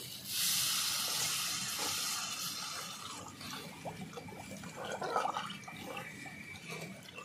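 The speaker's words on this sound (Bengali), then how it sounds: "এই দেখো দিয়ে দেবো এবার জল।" Water poured into a pan of well-fried spiced curry for jackfruit kofta, a soft rushing hiss at first that settles into quieter bubbling and sizzling, close by.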